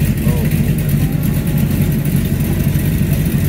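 Airboat engine running across a lake, a loud, continuous low roar and rumble with steady wind-like noise over it the whole time.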